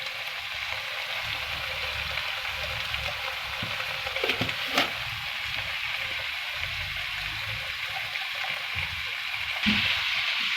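Brinjal with chili and turmeric frying in a pan, a steady close hiss and sizzle with a few clinks of stirring throughout.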